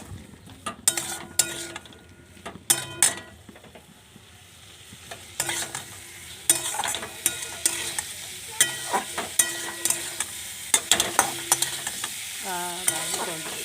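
Fried potatoes are stirred in a hot sizzling pan, with repeated scraping and clinking strokes of a spoon against the metal over a constant frying hiss, close by and with no talking.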